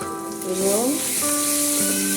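Goat trotters frying for nihari with garlic paste, ginger paste and cumin powder, a steady close sizzle with brief stirring, heard under steady background music tones.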